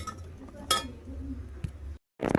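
A utensil clinks against a pan while cheese pasta is mixed with pasta masala, giving a few light, close metallic taps and soft scraping, with one sharp clink standing out.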